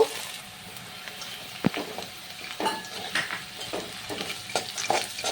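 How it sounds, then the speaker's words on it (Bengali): Chicken stirred with fried nuts and whole spices in a pan: a soft sizzle broken by scattered spatula scrapes and clinks, fairly quiet and close. "আবারও সব কিছু দু মিনিট মতো ভালো করে আমি নেড়ে চেড়ে নেব"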